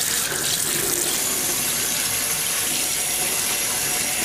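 Tap water pouring steadily into a kitchen sink while dishes are rinsed, a loud continuous rushing splash close by with no pauses.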